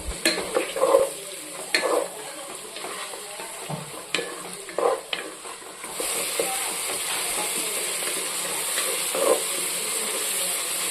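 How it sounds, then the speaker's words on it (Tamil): Tomatoes and green chillies sautéing in a pan for a chicken dum biryani, a steady close sizzle with scattered stirring scrapes and clinks of a spoon against the pan, growing a little louder and denser in the second half. "ரெண்டு பச்சை மிளகாய் சேர்த்து தக்காளி நல்லா குழஞ்சி வரணும் அது வரைக்கும் வதக்கிக்கலாம்"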